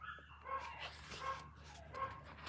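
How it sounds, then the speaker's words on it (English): Several dogs barking and whimpering excitedly at someone outside, a few high yips and whines repeating at a steady distance, fairly faint and somewhat muffled indoors. "I can hear my dogs going bananas because they see somebody outside."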